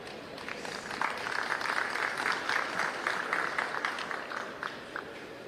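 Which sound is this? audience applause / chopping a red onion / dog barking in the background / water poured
audience applause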